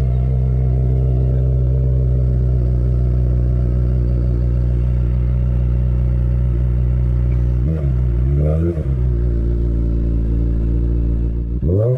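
A modified Kawasaki ZX-25R motorcycle with an aftermarket exhaust idles loudly and steadily close by, then gives a couple of quick throttle blips near the end.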